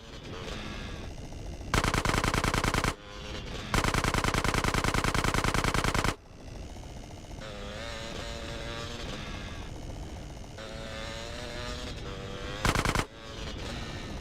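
Rapid automatic gunfire in GTA bursts out in two long, loud sustained volleys, then a shorter burst near the end, with engine and street noise of a chase running steadily underneath.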